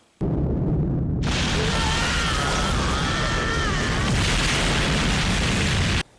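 A satellite orbiting laser blast from the anime film Akira strikes as a sudden, massive roaring explosion that sustains a dense, rumbling wall of sound for about five seconds, with sizzling high energy layered on top, then cuts off abruptly.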